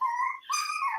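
Two short, high-pitched whimpers from a puppy, whiny and close, with a brief pause between them.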